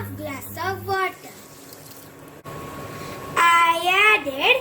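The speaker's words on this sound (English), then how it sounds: "I added the water in it." Half a glass of water poured into a pot of sugar to make sugar syrup for semolina laddu, a steady splashing pour set between stretches of speech.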